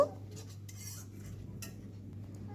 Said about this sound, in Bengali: এবার একটু খুন্তি দিয়ে এটাকে নেড়ে নেব।